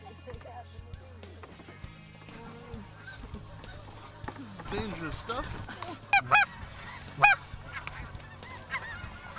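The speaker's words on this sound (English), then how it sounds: "I almost got taken out by a goose." Wild geese honk repeatedly during a foggy waterfowl hunt, several loud nasal calls close by and a few more further off, mixed with hunters talking over the birds.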